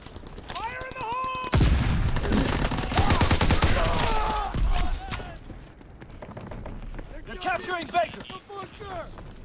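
A grease gun submachine gun fires in a Call of Duty: WWII multiplayer match, with rapid bursts of gunfire and scattered shots mixed with other battle noise, while a player talks throughout.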